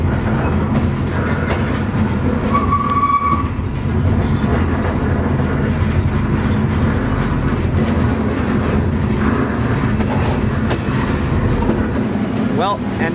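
An empty freight grainer car rolls past a busy intermodal yard, filling the space with a loud, constant rumble and rattle of wheels on rail, close and unbroken throughout.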